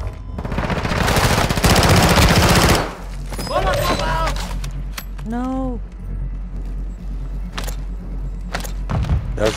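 Loud, sustained machine gun fire from Call of Duty: Modern Warfare II, a dense rapid burst for several seconds, then scattered shots, whooshing effects and mechanical clatter, with short bursts returning near the end.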